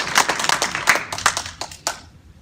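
A small audience at an awards luncheon claps in scattered, uneven sharp bursts that thin out and stop after about two seconds.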